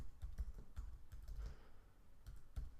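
Typing on a computer keyboard, quiet and close: irregular clusters of soft key clicks with short pauses between bursts.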